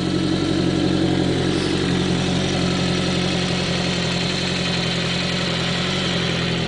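A restored 1985 Kawasaki GPZ-750 Turbo motorcycle with digital fuel injection idles steadily just after startup, a deep, throaty, continuous engine note held close and loud with no talk.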